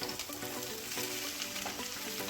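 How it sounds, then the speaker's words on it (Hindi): Chopped vegetables frying in desi ghee in a hot pan, a steady, dense sizzle with faint stirring clinks, close and continuous with no talk. "बाकी की सारी सब्जियां एक साथ ही डाल देंगे।"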